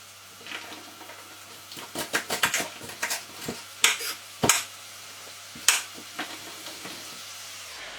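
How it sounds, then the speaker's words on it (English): Kitchen knife chopping the ends off a bunch of green beans on a cutting board, a run of sharp irregular knocks, some louder than others, close up with no talking. "We've got green beans. Just need to cut the ends down on these."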